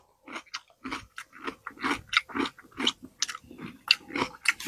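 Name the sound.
biting and chewing crunchy cucumber candy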